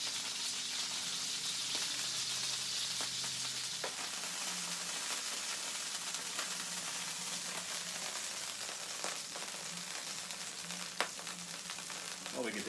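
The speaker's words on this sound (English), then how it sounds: "the blood coming out of the steak mixing with the oil." Steak fries in hot oil with a continuous, crackling sizzle and scattered pops, fairly faint and steady, with no voices.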